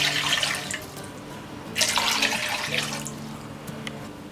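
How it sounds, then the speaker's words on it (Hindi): Water poured into a steamer pot for steaming modak on banana leaves, a soft, steady splashing trickle with a brief louder gush midway, fairly quiet and without voices. "हम ये स्टीमर में 3 गिलास पानी डालेंगे, 3 कप।"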